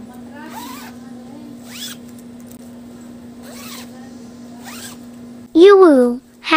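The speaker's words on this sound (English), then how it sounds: "The zipper is also quality." A zipper on a fabric pillowcase pulled in one quick, loud, close zip near the end, preceded by soft voice-like tones over a steady hum.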